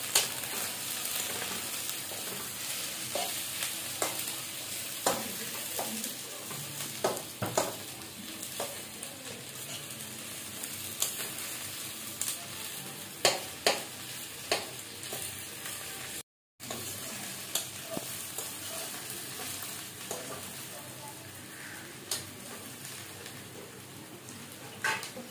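Potatoes and onions fry in a pan, a constant soft sizzle punctuated by irregular scraping stirs and clinks of the spoon, with one short dropout partway through and no talk.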